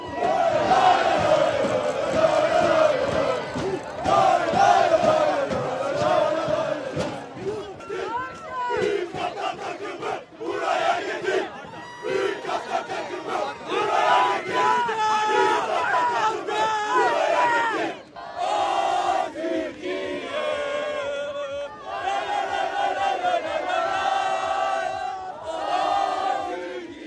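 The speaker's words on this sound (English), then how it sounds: "banging on and jumping on the metal bleachers that the fans were sitting" Turkish football fans at a practice session chant loudly in a dense, roaring crowd, with steady thumping and clanging from people banging and jumping on metal bleachers running beneath the voices throughout.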